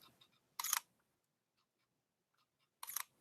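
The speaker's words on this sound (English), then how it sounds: "I'll let you hear what the shutter sounds like" A Sony a7R II mirrorless camera fires its shutter twice, each a short, crisp mechanical click-clack close to the mic, separated by near silence.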